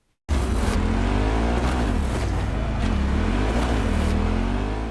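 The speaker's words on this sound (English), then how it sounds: "compared to other bikes, it has a noticeably longer startup sound" A video game motorbike engine with sand in it bursts to life abruptly after a long startup and runs loud and close, its revving pitch rising and falling for several seconds.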